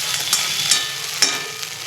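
An egg frying in oil gives a steady, close sizzle with a few sharp crackles and pops scattered through it.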